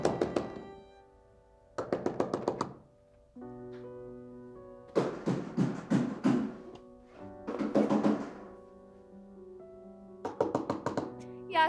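Repeated bursts of knocking on a door, several clusters of quick raps separated by pauses, fairly close and firm, with a faint musical tone humming underneath.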